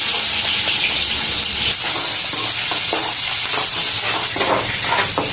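Chopped onion and curry leaves fry in hot oil, giving a steady, close, loud sizzle with crackling bursts and faint stirring throughout, with no voices.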